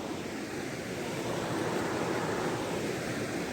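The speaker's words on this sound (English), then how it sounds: "We're basically just down at the edge of the river there." A river in the Scottish highlands near Bridge of Orchy flows steadily at night, a soft, even rushing wash heard from the water's edge with no voices.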